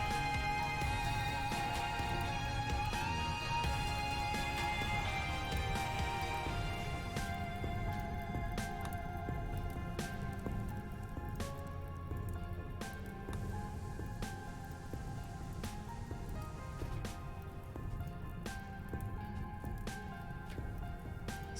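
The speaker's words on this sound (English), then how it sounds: "Yes, rain." Rain patters steadily in the colony game RimWorld, with soft scattered drops and clicks under loud, continuous background music, without a break for the whole stretch.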